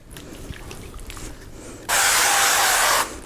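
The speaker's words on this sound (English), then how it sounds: "Spray it on the underside." A single steady burst of aerosol oil spray onto a whole raw chicken hisses loudly for about a second, close by, following quieter handling noises.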